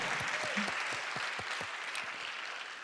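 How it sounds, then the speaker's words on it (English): Gala audience applauding, a steady wash of many hands clapping at a distance with some sharper nearby claps and a few voices under it. "If you agree with that now, you've got to clap your hands."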